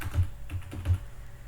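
A name is typed on a computer keyboard as a short run of several quick, close key clicks in an uneven rhythm, with no voices.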